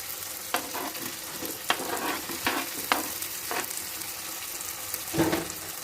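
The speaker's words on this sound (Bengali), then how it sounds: "এখন কিমাগুলো দিয়ে দিব, চিকেন কিমা আর বিফ কিমাগুলো।" Minced chicken and beef fry in a pan with a steady sizzle, punctuated by several sharp scraping and tapping stirs of a utensil.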